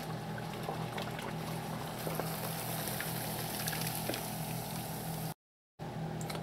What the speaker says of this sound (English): I'm going to go ahead and pour it into my greased dish.